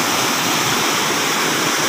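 Loud, continuous rushing of a flowing stream close by, a dense unbroken wash of water with no breaks and no voices.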